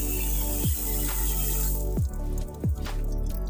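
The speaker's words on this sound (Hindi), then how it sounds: "नल भर है पानी" Water runs from a household tap into a container, a close, steady gush with rising gurgling tones as the vessel fills, interrupted by a few hollow glugging drops, with no voices.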